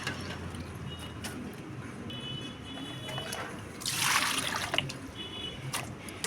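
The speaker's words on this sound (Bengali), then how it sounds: "ভালো করে কিন্তু সবজিগুলো ধুয়ে নিচ্ছি।" Vegetables being washed under running water, a steady low trickle and splash with a louder gush of water in the middle, fairly quiet and close.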